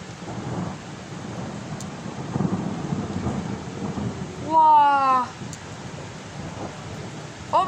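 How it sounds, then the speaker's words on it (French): A thunderstorm at night, in August, with a steady wash of rain and low rolling thunder rumbling through, heard from fairly close and with no talking. "il y a eu un gros orage"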